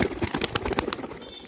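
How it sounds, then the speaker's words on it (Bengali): Pigeons of a biscuit-coloured roller breed coo in a loft, soft rapid calls mixed with brief wing flaps, fairly faint and close with no talking. "পায়রা বিস্কুটগুলো অ্যাক্টিভ দেখুন কতটা এই যে ডাক করছে প্রত্যেকটা"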